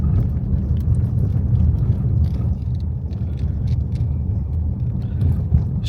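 A car driving along a village road toward the village of Pluzhnyky, heard as a steady, heavy low rumble from inside the vehicle with no pauses and no talking.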